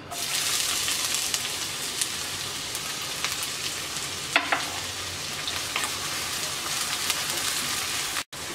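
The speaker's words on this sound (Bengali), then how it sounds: "পেঁয়াজটাকে হালকা ভেজে নেব।" Chopped onion frying in mustard oil in a wok makes a loud, steady sizzle close by, with occasional clatter of stirring on the metal.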